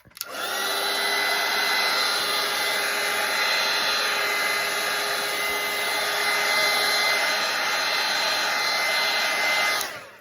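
A hair dryer blows steadily on a watercolour painting of a monarch butterfly, a loud continuous whir with a high whine that starts abruptly and cuts off after about ten seconds, with no talking.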